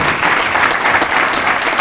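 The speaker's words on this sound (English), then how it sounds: "Please just give him a round of applause" Audience applause at the 2019 Ulster County Business Recognition Awards: a steady, dense wash of many hands clapping, loud and continuous throughout with no voices on top.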